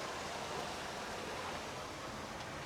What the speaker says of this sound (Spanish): El ruido del agua, ¿veis?